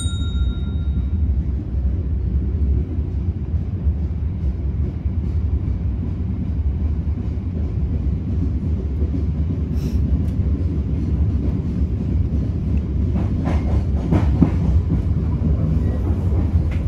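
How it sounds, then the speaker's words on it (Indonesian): Loud continuous rumble of the Pasundan train rolling along the tracks in Indonesia, heard from inside a carriage, with rattling and occasional metallic clanks. "kita sekarang sudah berada di dalam kereta api"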